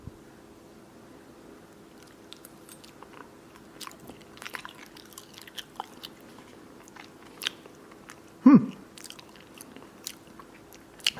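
Someone bites into a stored egg and chews it, the soft mastication sounds faint and scattered, with one sharper louder bite near the end.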